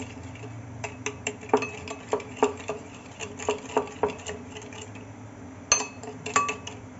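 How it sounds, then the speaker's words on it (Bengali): A utensil beats a sugar mixture for milk pudding in a bowl, making a series of sharp rhythmic clinks and taps that come in bursts, close and fairly quiet. "এতক্ষণ পর্যন্ত ফাটাবো যতক্ষণ পর্যন্ত চিনি না গলে"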